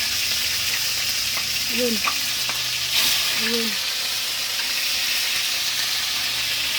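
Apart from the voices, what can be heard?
food frying and sizzling in very hot oil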